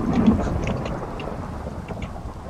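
Thunder in Minecraft Java Edition rumbles low and broad during steady rain while fishing, a sustained rolling wash with rain hiss that swells at the start and then eases off a little, with no voices.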